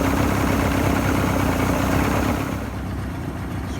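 An outboard boat motor runs on a Seafoam fuel mixture with a steady, loud engine drone that eases off and drops lower near the end.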